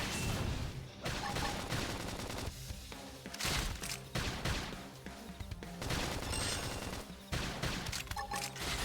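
Rapid gunfire and bursts of combat effects from the video game Xenoblade Chronicles X, dense and continuous across the whole stretch with repeated loud volleys and crashes, no clear talk.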